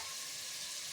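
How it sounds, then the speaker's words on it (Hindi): Masala spices for mutton haleem, including Kashmiri red chilli, fry in hot oil with a steady, dense, close sizzle that holds unbroken throughout. "मसाले को अच्छी तरह भून लें"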